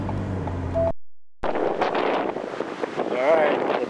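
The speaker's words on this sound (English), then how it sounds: "It is so windy outside right now." Strong wind buffets the microphone in rumbling gusts after a brief cut, loud and close, with faint voices underneath, outdoors in Cuyahoga Valley National Park.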